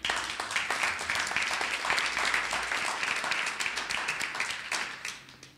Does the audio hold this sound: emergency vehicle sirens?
no